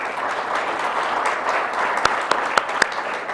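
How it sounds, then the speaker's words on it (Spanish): Steady applause from a panel audience at an agribusiness technology and productivity forum, a dense wash of clapping with a few sharper claps near the end, no talking over it. "Un aplauso, por favor."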